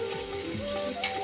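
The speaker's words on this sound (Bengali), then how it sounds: "তো টমেটো কুচি আর টমেটো পেস্টটা দেওয়া হয়ে গেছে।" Chopped tomato and tomato paste frying in a pan, a steady close sizzle and bubbling throughout with a faint stirring scrape near the end.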